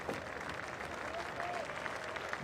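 Spectators at a New Zealand v England cricket Test clap steadily, a soft, distant patter of applause spread across the ground with a commentator's voice faintly over it.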